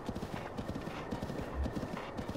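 Horse hooves clip-clop steadily at a brisk trot in The Legend of Zelda: Breath of the Wild, a continuous rhythmic patter of game footsteps with no talking.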